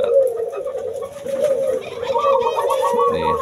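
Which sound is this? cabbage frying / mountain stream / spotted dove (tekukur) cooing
spotted dove (tekukur) cooing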